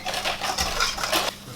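Nuts are tossed into a pan with sugar, making a short, bright rattle and clatter of many small pieces hitting metal, close and fairly loud.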